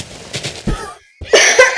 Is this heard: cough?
yes